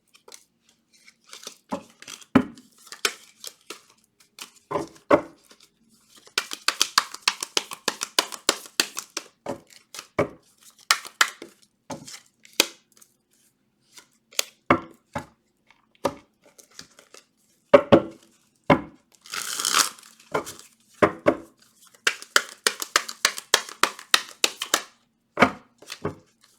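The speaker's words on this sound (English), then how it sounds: "There's roofing work being done next door." Sharp, irregular knocks and scraping taps from roofing work next door come in bursts with pauses between, heard alone without talk.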